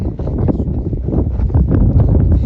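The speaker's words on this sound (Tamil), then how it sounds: "என்ன இந்த காத்து அடிக்குது" Strong wind blows across an outdoor sports turf, producing a loud, continuous rumbling buffet against the microphone with uneven gusts throughout.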